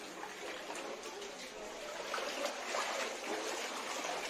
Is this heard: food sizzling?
no